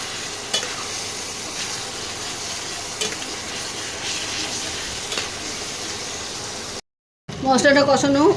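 Spice masala for mutton kosha frying and being stirred in a pan, a steady sizzle with occasional scraping knocks, then a brief gap and someone talking at the end.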